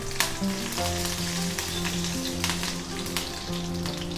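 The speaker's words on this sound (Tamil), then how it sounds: "எண்ணெய் காஞ்செடுத்து கடுகு, உளுத்தம்பருப்பு, கொஞ்சம் கருவேப்பிலை" Mustard seeds, urad dal and curry leaves crackling in hot oil, a dense close sizzle with sharp pops, partly covered by steady background music, no speech.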